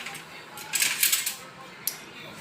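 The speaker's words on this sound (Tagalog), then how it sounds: "Haluin natin ng konti." Saluyot and eggplant being stirred in a cooking pan, with a few short metallic scrapes and clinks of a utensil against the pan clustered near the middle, fairly close.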